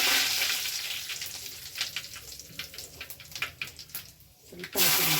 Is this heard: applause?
no